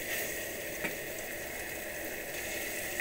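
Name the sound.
chicken sautéing in a pan with coconut and poppy seeds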